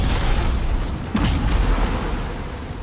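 A fire spell strikes a boss in the Demon's Souls remake, landing as a deep booming burst about a second in, set against loud rumbling game ambience.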